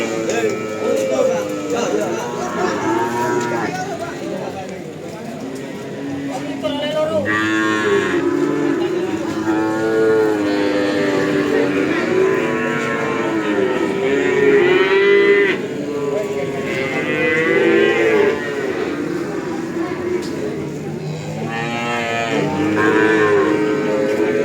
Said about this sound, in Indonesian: Sapi ini lagi apa tak syuting tenanan, sapi ini lewat.